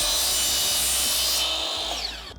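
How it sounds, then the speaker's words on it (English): A table saw fitted with a non-ferrous blade rips through aluminum stock for a saltwater reef tank stand, giving a loud, steady, high-pitched metallic scream that holds for about two seconds before winding down. "I'm gonna be cutting these guys on the table saw"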